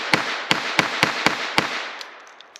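Beretta Model 20 pistol firing .25 ACP rounds at a target: six sharp, evenly spaced shots in quick succession, loud and close, followed by faint echoing tail and clinking.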